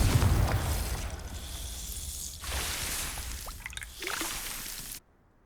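A Confringo fire spell blasting in the Hogwarts Legacy video game: a dense, sustained burst of crackling explosive noise with fresh surges partway through, then an abrupt cut to near silence at the end.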